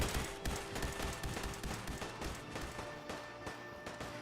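Laser gunfire in Fallout 4 at a guard post, a dense stream of rapid zapping shots and impacts layered with steady electronic tones, continuous and fairly loud throughout, without speech.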